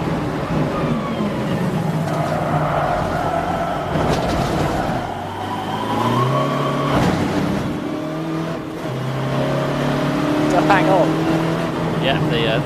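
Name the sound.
race cars accelerating at Snetterton, VW TDI endurance race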